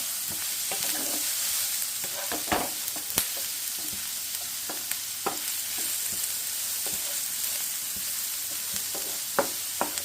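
Egg roast masala fries in a pan with rock salt while it is stirred, giving a steady sizzle with scattered scraping taps from the spoon, close and continuous with no voices.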